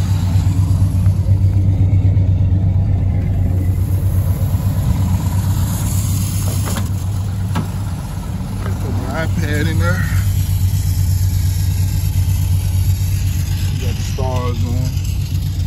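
A Chevrolet Monte Carlo SS cruises along back roads with a steady low engine rumble and road drone that stays loud and constant, while someone speaks briefly over it.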